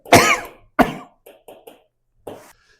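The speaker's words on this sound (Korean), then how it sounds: "마지막에 기침하느라고 설명을 못 드린 것 같은데" A teacher coughs in a quiet classroom: two loud, harsh coughs close to the microphone, then a few softer hacking bursts and a final weaker cough, with silence in between.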